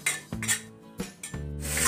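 Spice paste is sautéed in a pan for an Indonesian vegetable dish, with a few distinct metal clanks and scrapes of a utensil against the pan, close and clear, between quieter gaps.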